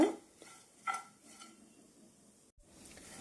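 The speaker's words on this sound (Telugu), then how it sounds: "ఇలా కలుపుతూ వేపుకోండి అప్పుడు మొత్తం రొయ్యలన్నీ కూడా మంచిగా అన్ని కరెక్ట్గా వేగుతాయి" A spatula stirs dried shrimp frying in oil in a pan, giving faint scraping and metallic clinks against the pan with a soft background hiss, mostly quiet between strokes.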